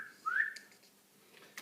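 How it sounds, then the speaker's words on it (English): A single short, rising whistle sounds near a pen writing at a desk during a maths lesson, followed by quiet with faint ticks. "get the whistling sound out"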